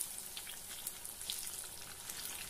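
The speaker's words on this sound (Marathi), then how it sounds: "मीडियम गॅसवर आपण बट्ट्या तळून घेऊया." Dal bati dough balls deep frying in oil over a medium gas flame give a steady, dense sizzle with small crackling pops, heard alone at moderate volume throughout.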